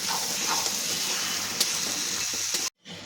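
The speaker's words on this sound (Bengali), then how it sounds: "এবার আমি ম্যারিনেট করা মাংস দেব, দিয়ে ভালো করে কষিয়ে নেব।" Marinated mutton for an aloo mutton curry being fried and stirred in spiced oil in a pan, producing a steady, loud sizzle that cuts off abruptly near the end before resuming faintly.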